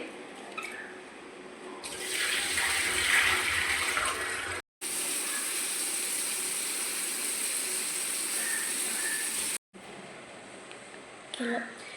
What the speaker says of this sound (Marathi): ते मी आता पाण्यामध्ये स्वच्छ धुवून घेणार आहे